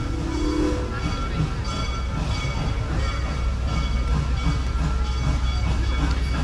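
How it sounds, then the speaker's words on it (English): Theme park train at Busch Gardens rolling steadily, a continuous low rumble with faint rhythmic clatter and background hum, heard up close without talk. "Let's go catch a train."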